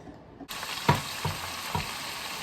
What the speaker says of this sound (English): Cooking up these long beans. These long beans, sauteed.